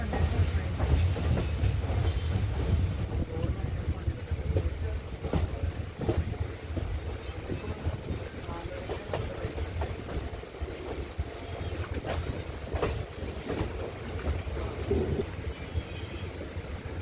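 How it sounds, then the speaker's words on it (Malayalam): The Kollam Tirupati Express rumbles past with a steady low rolling roar and irregular clattering wheel knocks, heard from nearby under wind noise and the background din of another moving diesel train. "കൊല്ലം തിരുപ്പതി എക്സ്പ്രസ് ആണ് ഈ പോകുന്നത് കേട്ടോ."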